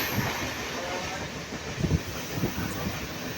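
A MEMU passenger train runs at full speed between Nalhati and Azimganj, approaching Morgram, in light rain, heard from inside as a continuous broadband rumble and hiss with a few soft wheel thumps.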